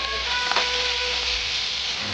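Cut potatoes, onion and green chillies sizzling in hot oil in a pan after cumin seeds were added, a steady close hiss throughout with no voice.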